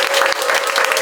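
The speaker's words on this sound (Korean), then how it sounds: "서무현 회장님 박수로 맞아주시고" An audience applauds to welcome Seo Mu-hyeon, a neighborhood resident autonomy association chair, at a Jungnang-gu community meeting, with steady, dense clapping continuing throughout.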